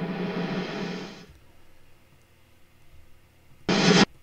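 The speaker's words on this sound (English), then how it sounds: "So now you have a riser sound, but it's sourced from your snare" Reversed snare drum reverb turned into a riser in a music production session: a noisy washed swell that cuts off abruptly, a quiet gap, then a short loud burst of snare-like noise near the end.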